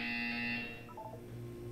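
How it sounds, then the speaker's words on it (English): A video game buzzer sounds as one steady, harsh electronic tone lasting about half a second. It cuts off, followed by a few soft, faint blips over quiet background hum. "When you hear the buzzer, look down at the floor."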